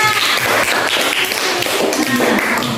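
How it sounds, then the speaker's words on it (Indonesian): A class of primary pupils in a fifth-grade lesson claps in a quick, close, loud burst of slapping hands lasting under three seconds, with scattered thumps mixed in. "tepuk tangan untuk manusia"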